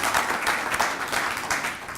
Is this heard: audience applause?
yes